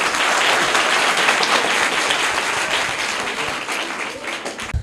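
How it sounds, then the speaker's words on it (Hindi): Loud applause from a crowd of schoolchildren at a quiz, dense continuous clapping that fills the whole stretch and slowly fades toward the end. "जोरदार तालियां इनके लिए।"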